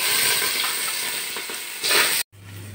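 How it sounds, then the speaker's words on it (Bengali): Rice and lentils hit hot oil seasoned with bay leaf and dried red chilli for khichuri, giving a loud, close, steady sizzle that cuts off abruptly near the end. "রাখা চাল ডালগুলো দিয়ে দিচ্ছি"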